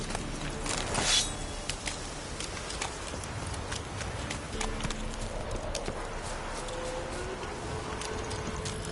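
A horse's hooves clip-clop in a steady galloping rhythm over ambient noise in The Witcher 3, with a brief louder burst near the start and faint insect-like buzzing in the background.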